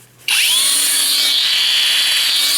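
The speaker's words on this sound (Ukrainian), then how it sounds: "Але от коли ви включаєте болгарку" A ProCraft cordless angle grinder switches on after a brief quiet moment and spins up to a steady, piercing high-pitched whine that holds loud and close for the rest of the clip.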